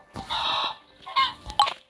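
A chicken in the Roblox video game clucks in two short bursts, a longer squawk followed by a couple of quick clucks, close and clear with no talk.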